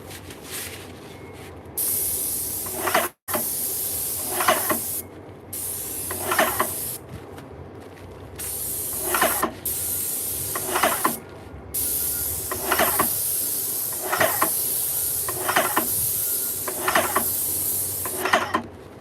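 Spray can applying repeated short light coats to a wooden desk under construction, a soft hissing burst roughly every one to two seconds, close and steady against a faint background hum.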